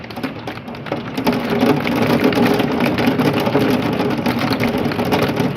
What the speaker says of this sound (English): The hailstones are getting bigger. I think we have golf ball sized hail